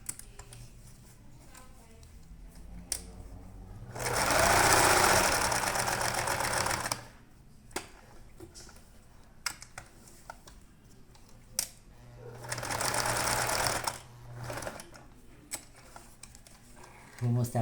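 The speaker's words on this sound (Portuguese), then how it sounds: "E aqui eu vou passar uma outra costurinha." A sewing machine stitches fabric on a colourful hedgehog pillow, running in two loud sustained bursts of rapid stitching with quieter clicks and handling sounds between them.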